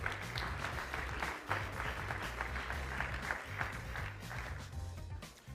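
A conference audience at TechCrunch Disrupt 2023 applauds as startup competition judges walk out, a sustained wash of clapping running throughout over a low rhythmic music bed.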